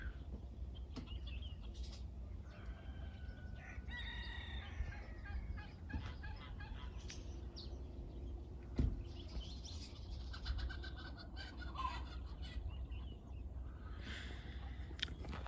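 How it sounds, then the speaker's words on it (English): A flock of chickens and other fowl clucking and calling from a distance, scattered overlapping cries over a steady low rumble, with an occasional brief wing flap or knock. "There's a whole bunch of chickens and stuff at the back there."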